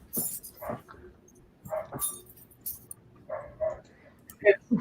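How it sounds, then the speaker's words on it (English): A few dogs bark and yip intermittently in the background, fairly faint, while a person talks nearby. "my dogs are barking, so you can probably hear that in the background"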